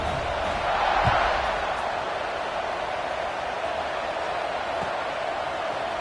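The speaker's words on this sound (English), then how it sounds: "this crowd is buzzing after that last score" A stadium crowd at a football game keeps up a steady, dense roar of buzzing noise from start to finish, swelling slightly near the start and continuing without clear voices standing out.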